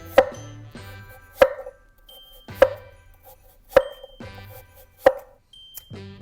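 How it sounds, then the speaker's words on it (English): An apple is sliced into thin pieces in five evenly spaced, sharp cutting thunks, each ringing briefly against a board, with quiet gaps between strokes. "Then I'm going to thinly slice this apple."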